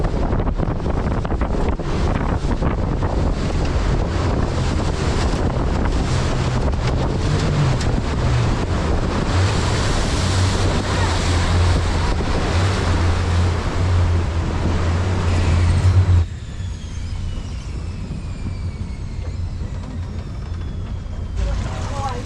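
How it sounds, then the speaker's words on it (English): Turbulent tidal water rushing through the gorge at Horizontal Falls in the Kimberley, churning into whirlpools and rapids, with heavy wind buffeting and a low boat engine hum throughout, the roar dropping off abruptly near the end. "So the water is just bouncing off itself here, there and everywhere, creating these massive whirlpools and these rapids."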